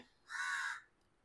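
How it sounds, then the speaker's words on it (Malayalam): A single drawn-out caw from a crow, fairly close and clear against a quiet background. "കാക്ക പോകുന്നില്ല"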